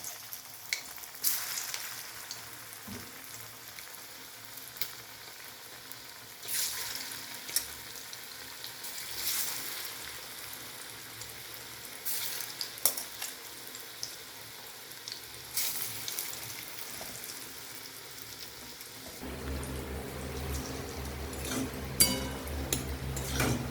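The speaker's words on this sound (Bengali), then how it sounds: "এইবার এগুলো বড়ার মতো করে ভেজে নিতে হবে" Gram-flour-bound raw banana kofta balls deep-fry in hot oil, a continuous close sizzle with faint clinks, and a deeper bubbling rumble rising near the end.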